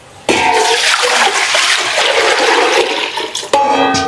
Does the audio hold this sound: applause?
no